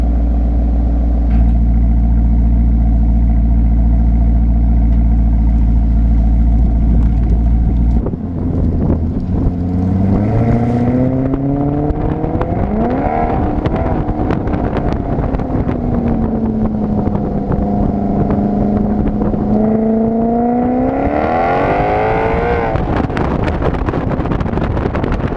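A 2014 Maserati GranTurismo Sport engine and exhaust start with a low idle rumble, then rise into a loud, climbing, falling and re-climbing drone as the car accelerates, with heavy wind buffeting throughout and no talking.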